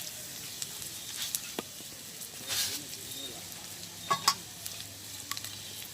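Whole cumin seeds frying in oil give a faint, steady sizzle, with occasional soft clinks and scrapes of stirring and a few quiet pops close by.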